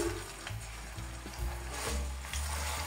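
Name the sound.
garlic frying in hot oil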